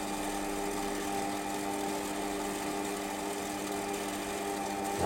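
A 6mm reamer fed slowly and steadily through metal on a lathe in a home workshop, with cutting compound applied. A constant mechanical whine holds steady tones throughout, close and alone with no talk.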